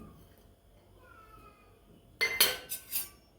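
An iron tawa is handled while roasting cardamom and coconut: after a quiet stretch, a few sharp metallic clanks and scrapes ring out close by in quick succession.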